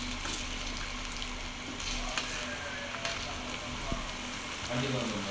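Shredded cabbage chilli frying in a little oil in a pan, with a steady close sizzle and faint stirring scrapes throughout.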